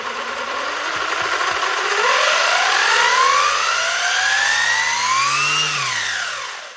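Electric motor of a Traxxas Slash 4x4 RC truck in a three-speed setup whines loudly and steadily, pitch rising and sweeping as it revs up, then dropping off near the end, with no talking.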